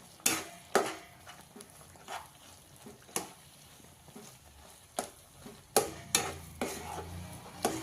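Thick rice flour dough for ukadiche modak being stirred in a pot, producing a rhythmic series of sharp close knocks and scrapes of the spoon against the vessel, repeated every second or so over a quiet background.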